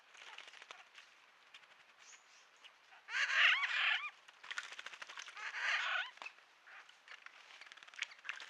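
Laughing thrushes at a small pool, bursts of loud chattering, cackling calls in two main flurries over a background of fainter bird calls and light rustling.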